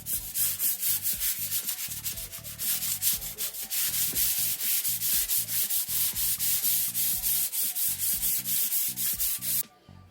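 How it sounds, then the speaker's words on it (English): Rapid, rhythmic scratching of sandpaper lightly rubbed back and forth over painted wood, steady and close, stopping abruptly at the end. "by lightly sand, I mean really very lightly sanding"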